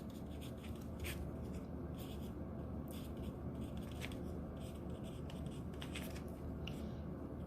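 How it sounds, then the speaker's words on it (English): Pen or marker scratching steadily on paper or a board while a finance formula is written out by hand, a quiet, continuous scribble with short stroke bursts and no talking. "So I'm just going to write the formula here."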